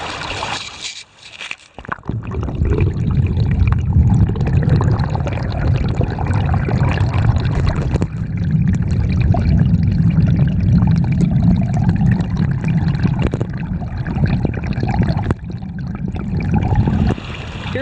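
Creek water splashes and churns steadily while a sluice box is cleaned out, a loud, close, continuous rushing and sloshing after a brief quieter start, with no talking.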